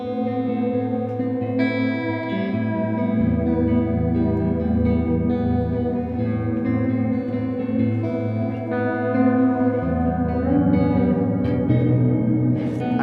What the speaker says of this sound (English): audibly create an echo-like effect within your reverb